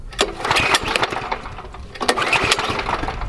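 A BCS walk-behind tractor's small engine turns over and catches, giving a rough, buzzing mower-like run with two sharp surges, close and fairly loud.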